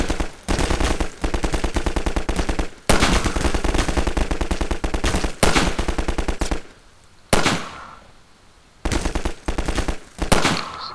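Rapid automatic weapon fire in Garry's Mod, loud and close, in long sustained bursts separated by short pauses, with a few single shots and brief quiet gaps near the end.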